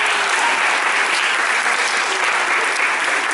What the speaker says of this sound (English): Please can you clap yourselves?